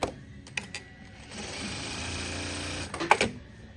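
A Durkopp Adler industrial sewing machine runs a short stitching burst under pedal control and then trims the thread. The sequence has a few sharp mechanical clicks, a steady motor whir of about a second and a half, and a final snap-click, heard close with no speech.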